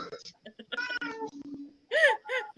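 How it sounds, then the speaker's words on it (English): A cat meows in short, high, wavering cries at the end, following a stretch of people talking during a Saturday night livestream. "Oh my god, you used the word rapey and now you've summoned one of Trenchy's cats."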